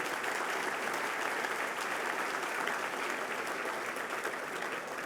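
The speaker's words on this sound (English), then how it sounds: "Let's have a round of applause for all of them" A large dinner audience gives a sustained round of applause, a dense, steady roar of many hands clapping that holds from start to finish.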